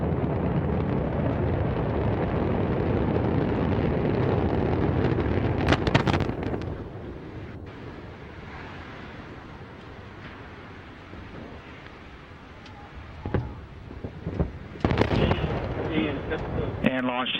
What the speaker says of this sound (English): The rocket flew for 11 seconds before bursting into flames.